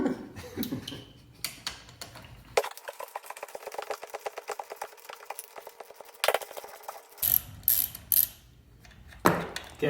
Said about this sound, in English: So now we're going to remove the swing arm with the 3/4 inch socket.